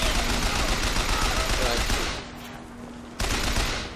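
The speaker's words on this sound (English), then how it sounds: "Oh, they're firing rockets." Enemies firing rockets in the video game Bioshock Infinite: dense, roaring blasts and gunfire fill the stretch, dip briefly, then hit again loudly, with a voice faintly present under the din.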